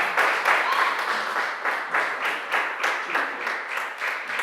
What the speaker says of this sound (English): Can you clap, clap, clap,